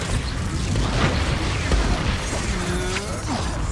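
Confringo fire spell blasts and combat crashes in Hogwarts Legacy, a dense, continuous wash of impacts and magical bursts with no clear pauses.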